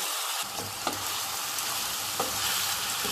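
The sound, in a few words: oil sizzling in a pan over a very high flame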